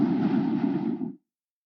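A data sonification of ocean carbon dioxide outgassing gives a dense, steady, rumbling whoosh with a low-heavy body that holds for about a second before cutting off abruptly.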